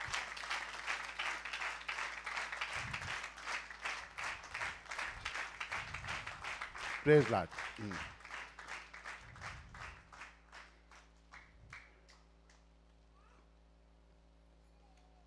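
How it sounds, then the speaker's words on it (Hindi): A church congregation at a Sunday service claps in a steady rhythmic beat while a voice speaks briefly over it. The clapping gradually thins and fades out into near silence. "ताली बजाते रहे"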